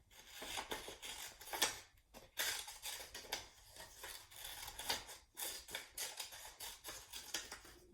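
Scissors snipping through paper along straight, curvy and zigzag lines during a kindergarten occupational therapy session, heard as a steady run of close, crisp cutting strokes in irregular bursts with brief pauses, no talking.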